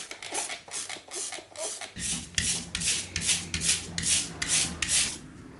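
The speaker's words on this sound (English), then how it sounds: "so I'm gonna scrub this down and get down to a base before I do that" Rhythmic scrubbing strokes rasp over caked dirt and oil on the exhaust pipe of a 1985 Yamaha IT200 barn-find motorcycle, close and steady, with a low background hum joining partway through.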